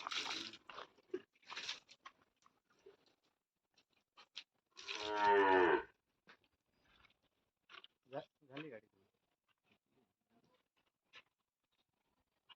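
A bull on a village farm gives a single loud, drawn-out low in the middle, with scattered short voices and brief knocks before and after.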